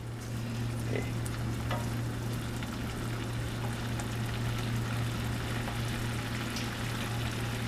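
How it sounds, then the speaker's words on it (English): Chicken piccata sizzles in a hot pan with a steady, moderate frying hiss and a low constant hum underneath, with no talking. "You can see that, hear that sound of it sizzling."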